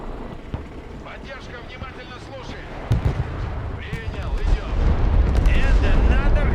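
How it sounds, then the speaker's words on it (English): Missile strike explosions in the video game Broken Arrow rumble and build into a heavy, continuous roar of blasts that grows louder toward the end, with a voice talking over the battle. "And the missile strike."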